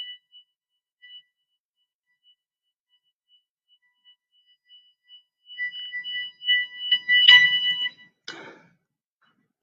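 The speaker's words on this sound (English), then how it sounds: "That's an alarm." Electronic alarm beeping in a hospital setting, faint intermittent tones at first, then a louder cluster of beeps with a brief clatter near the end, alone without talk.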